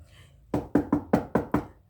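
Six sharp knocks land on a door late at night, close and loud, in a quick, slightly uneven rhythm after a short quiet pause. No voices are heard.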